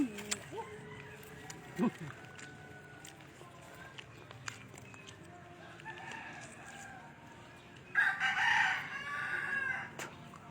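A rooster crows loudly near the end, and softer clucks and scattered bird sounds come before it in a quiet outdoor setting.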